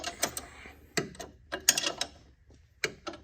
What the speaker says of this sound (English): I'm just tightening up the motor mounts.